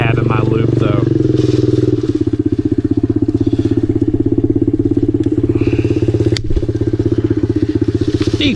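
A Honda CRF110 dirt bike engine runs steadily and loud close by on a trail, its even buzzing note holding throughout with a few crackles and clatters on top.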